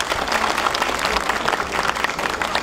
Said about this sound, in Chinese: 鼓掌一下。